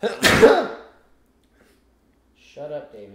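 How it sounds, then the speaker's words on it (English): A single loud, close sneeze bursts out near the start and is followed by a short silence, after which a person speaks. "Oh, hold for sneeze."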